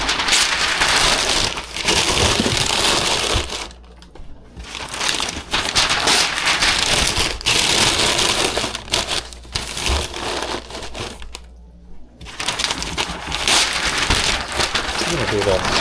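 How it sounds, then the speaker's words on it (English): Crumpled packing paper being stuffed into a cardboard shipping box around a mug, a loud, continuous crackling and rustling with a few brief pauses. "we're gonna fill this box with paper and get that mug right in the middle of it."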